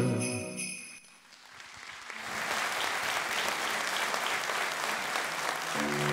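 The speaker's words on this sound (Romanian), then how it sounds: "Vă mulțumesc, vă mulțumesc tare mult pentru aplauze." Loud, sustained applause fills the hall at a Christmas carol concert in Mediaș, rising after a brief lull and continuing steadily to the end.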